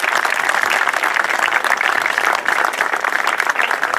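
A crowd applauds loudly and steadily, dense clapping sustained throughout without a break.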